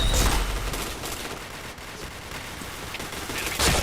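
Rapid gunfire from the first-person shooter Point Blank, a dense continuous barrage of shots with louder bursts at the start and end, close and loud without any talk.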